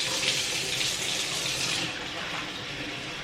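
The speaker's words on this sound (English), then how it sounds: "we're just gonna rinse it until the water runs clear" Cold tap water pours over soaked rice being rinsed in a sink, a close hissing stream that eases slightly partway through.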